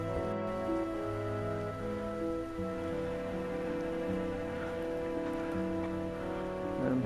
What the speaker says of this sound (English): It is now currently sleeting.